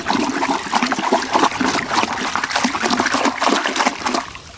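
Water for a biodynamic spray preparation is stirred vigorously into a vortex, producing a steady rushing, splashing churn with rhythmic sloshing surges, close and loud.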